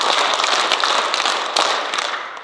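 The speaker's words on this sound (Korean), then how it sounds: "박수 5번 시작!" A lecture audience at a retreat for retired church elders claps together on cue. The crowd's sharp, dense clapping stays loud and steady for a couple of seconds, then tails off.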